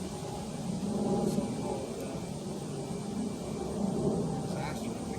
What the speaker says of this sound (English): Okay, another passenger jet.